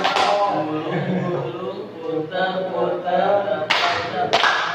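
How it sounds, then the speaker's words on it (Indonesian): A classroom lesson with students clapping for their classmates: mostly talking, then a couple of sharp bursts of hand claps near the end. "Mari, tepuk tangan buat teman-teman."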